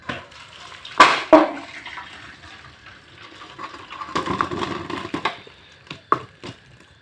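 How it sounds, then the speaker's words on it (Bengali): Boiled rice dumplings being poured from a pot onto a perforated plate, with sharp clattering knocks, a stretch of splashing, dripping water and a few scattered clinks and taps close by. "এই পিঠেগুলো এখন আমি নামিয়ে নেব। গ্যাসটা অফ করে দিলাম, দিয়ে এখন আমি এই পিঠেগুলো একটা ফুটো করা থালা নিয়েছি, এই থালাতে আমি ঢেলে দেব"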